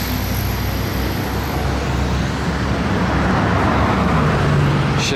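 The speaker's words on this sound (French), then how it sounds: "dans la circulation, une Bugatti Veyron 1001 chevaux W16" A Bugatti Veyron with its 1001-horsepower W16 engine driving in race mode through Monaco traffic, heard as a loud, steady road roar and engine rumble that slowly swells over a few seconds.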